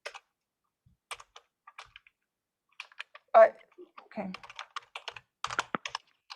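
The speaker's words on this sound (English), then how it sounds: "That's why I'm typing it." Computer keyboard typing at a convention meeting while votes are recorded: scattered light clicks in short bursts throughout, with one brief spoken word in the middle and a quiet room behind.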